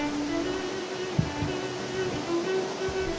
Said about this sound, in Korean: 폭포 구경 좀 합시다.